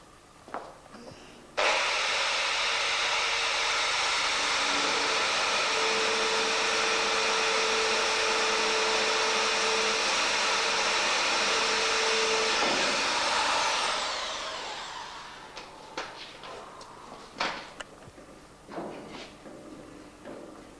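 A power drill drives self-tapping screws into a square metal bar, a loud steady whine running about eleven seconds before winding down, followed by a few scattered clanks and handling knocks.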